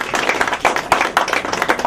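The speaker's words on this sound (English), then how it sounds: "Give Quadir a round of applause." An audience at a talk on African history and spirituality breaks into brisk applause, close clapping with sharp individual claps standing out over a lively crowd patter.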